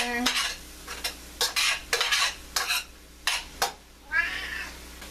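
A utensil scrapes and stirs canned tuna into vegetables in a pot for tuna yellow noodle soup, giving a series of uneven, close scraping strokes. A cat meows nearby.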